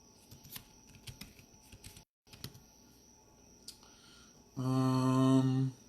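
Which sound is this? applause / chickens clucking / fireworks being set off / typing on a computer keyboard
typing on a computer keyboard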